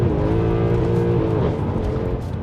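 A 513 bhp Mercedes C63 AMG engine, with traction control off, roars loudly and continuously with a rich, steady drone and a slight shift in pitch, close up with no talking.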